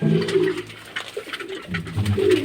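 Pigeons coo continuously as they are fed grain, a close, steady layer of low throaty calls rising and falling with no talk over it.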